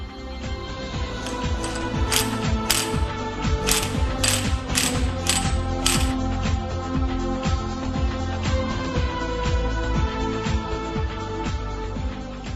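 Special nut puller and primary gear holder tools tightening the balancer driver gear special nut on a Bajaj Pulsar NS200 engine, a steady close mechanical ratcheting with a run of sharp clicks early on, no voices.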